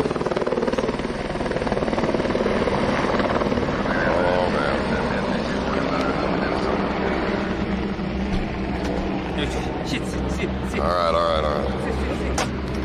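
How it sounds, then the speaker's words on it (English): Helicopter engine and rotor heard from inside the cabin, a loud, constant droning whine with a heavy low throb that runs the whole length, with people talking over it. "Who's flying the helicopter?"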